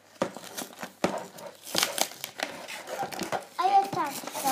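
Topps Minis toy figure packet being cut open with scissors: close plastic crinkling and short tearing snips come in uneven bursts while a child and an adult talk over the handling.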